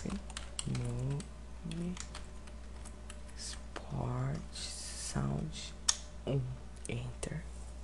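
Console commands are typed on a computer keyboard for HLAE recording, with quick bursts of crisp key clicks near the microphone between and beneath a man's speech.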